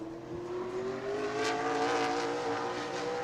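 A modified race car engine at New Smyrna Speedway during qualifying, a steady rising drone as the car comes off turn four, growing slightly louder while holding a high-revving tone throughout.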